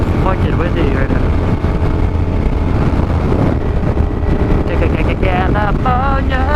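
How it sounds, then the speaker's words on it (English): Loud wind roaring against the microphone over Suzuki SV650S motorcycle engine noise while riding, with voices talking through it. "Shit is fucking windy right now."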